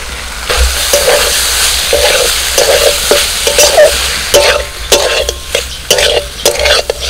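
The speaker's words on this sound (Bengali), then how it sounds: "এবার সিদ্ধ করে রাখা লতিগুলো দিয়ে দিচ্ছি" Boiled taro stolons go into a pan of frying spice paste and are stirred, giving a steady sizzle broken by repeated scraping stirs and light clanks of utensil on pan.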